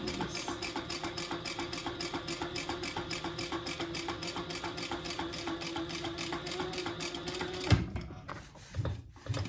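Sewing machine topstitching a fabric bag panel, a rapid steady mechanical whirring with evenly spaced needle clicks running continuously for several seconds before stopping abruptly, followed by a few soft handling thumps.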